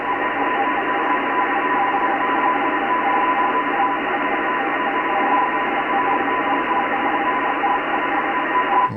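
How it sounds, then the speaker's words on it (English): Weak radio teletype signal picked up on shortwave near 6096–6100 kHz, a steady hissing band of static with faint tonal data lines running throughout, no voices. "Sounds like some radio teletype."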